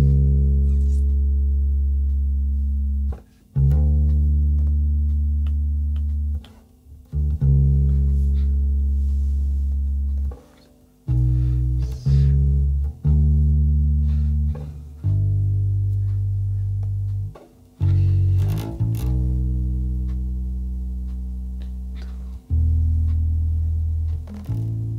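Bass guitar playing the chorus of a gospel song, deep sustained notes changing through a simple chord progression, loud and close, played alone without talk.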